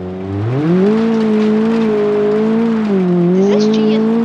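A car in the BeamNG driving game accelerates hard under a steady, loud engine drone whose pitch climbs, dips briefly, then rises again, with a faint chirp near the end.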